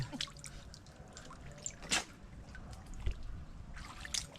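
Rain drips and trickles steadily outdoors during heavy flooding, with scattered close splashes and a few sharper bursts over a constant wet hiss, heard alone without talk.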